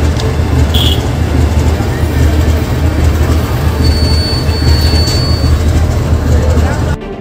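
A train runs at Sangrur railway station in Punjab, a loud, close, continuous rumble of wheels on rails with a brief high squeal early on and a thin metallic whine later.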